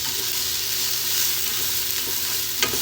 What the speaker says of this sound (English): So let's add in the onion. Saute them just about a minute or two.